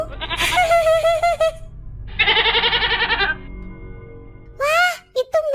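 Goats bleat in a video game, several loud, close, wavering cries in separate bursts with short pauses between them and a low rumble underneath.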